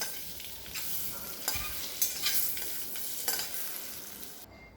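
Masala eggs sautéing in a kadhai, a steady close sizzle broken by a few sharp scrapes and stirring clanks, alone with no voices.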